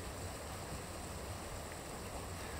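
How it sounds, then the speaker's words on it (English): Water rushing over an old concrete weir left from a former coal mine site in a garden, a steady broadband roar like white noise, constant and unbroken throughout. "The white noise of the rushing water provides a constant soundtrack to any time spent in the garden."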